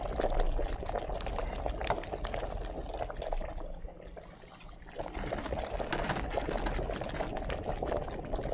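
A bubbling alchemy cauldron in Kingdom Come Deliverance boils steadily with a dense, continuous burble of liquid, dipping briefly before resuming, heard alone without speech.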